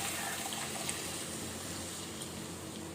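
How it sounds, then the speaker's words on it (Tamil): Tamarind water poured into a pan of Kerala-style sardine fish curry, a steady soft liquid trickle and splash heard up close for a few seconds without talk. "நம்ம கலக்கி வச்சுருக்கிற புளி தண்ணி ஊற்றுவோம் தேவையான அளவு"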